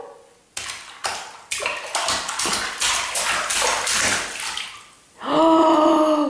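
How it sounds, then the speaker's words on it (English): A young child splashes in bath water, sharp bursts of slaps and sloshing in an irregular rhythm, close and fairly loud, ending with a stretch of running water. "Are you going to splash in the water?"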